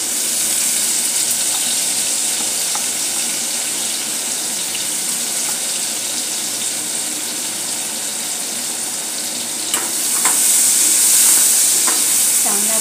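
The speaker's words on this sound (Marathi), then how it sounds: "कांदा गुलाबी होईपर्यंत परतून घेऊया" Finely chopped onion frying in oil with bloomed cumin and asafoetida, a loud, dense, steady sizzle throughout with a few faint stirring knocks toward the end.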